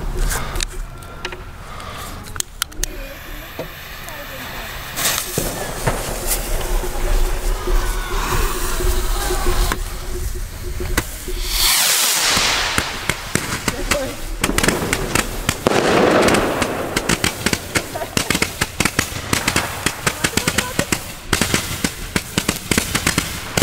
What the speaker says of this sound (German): machen wir noch das 100 Schuss Leuchtkugel Röli